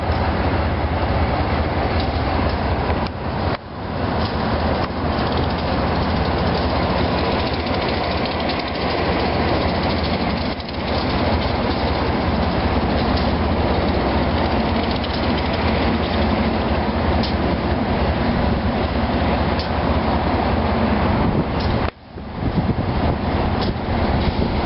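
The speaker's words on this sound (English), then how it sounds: "Comes the Septa Limited right now" A SEPTA Limited passenger train roars past close by, a loud, steady rush of rail noise with rumbling wheels and clatter lasting throughout, briefly dipping near the end.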